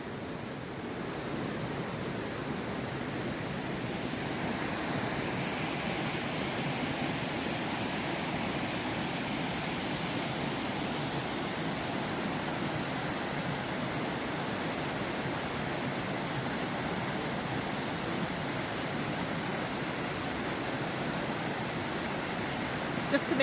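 A stream in autumn flows steadily as a continuous broadband rush of water, close and fairly loud, unchanging throughout with no voices.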